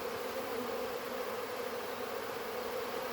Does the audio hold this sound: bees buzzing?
yes